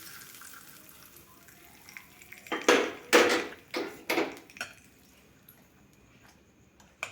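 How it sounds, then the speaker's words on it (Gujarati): A tempering of asafoetida and curry leaves being mixed into a bottle gourd snack batter, heard as a handful of sharp, close clinks and scrapes of a utensil against a bowl in an uneven cluster, otherwise quiet and without talking. "બેટરમાં એકદમ સરસ રીતે વઘાર મિક્સ કરી લેવાનો છે"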